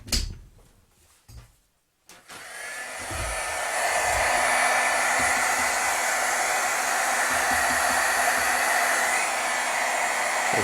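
A heat tool warming metallic stamping ink switches on after a few soft knocks and then blows a steady, loud, close whoosh that runs without a break to the end.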